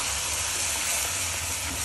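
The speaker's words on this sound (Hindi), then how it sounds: "अब हम इसमें डालेंगे 3 टमाटर की प्यूरी" Tomato puree made from 3 tomatoes poured into hot cooked masala in a home kitchen, for kale chole: a steady, loud hiss and sizzle that holds evenly throughout, with no talking.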